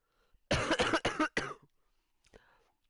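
A person coughs in a quick burst of four harsh, close coughs, crackling and distorted through livestream audio during a FIFA 20 session, followed by a fainter throat sound.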